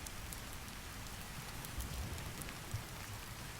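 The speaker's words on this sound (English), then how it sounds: "let the rain and waves carry you into the story" Steady rain falls with waves on a shore, a dense, even hiss of drops with occasional louder patters, continuous and calm with no voices.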